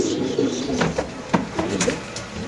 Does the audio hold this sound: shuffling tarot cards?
no